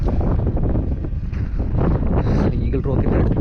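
Strong wind buffeting an outdoor viewpoint near Eagle Rock, with mist blowing through; steady loud rumbling gusts fill the whole stretch, and faint voices may be buried underneath.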